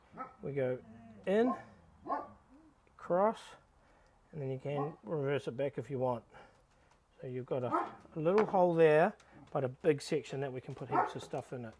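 A dog barks in a home kitchen during ham and cheese stuffed chicken breast preparation, its barks partly buried under a person talking steadily throughout.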